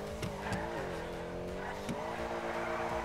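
A car drifting in GTA 5 with no tuning mods, engine droning steadily while tires squeal in short repeated bursts, loud and continuous throughout.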